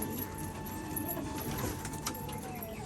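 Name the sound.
pigeons cooing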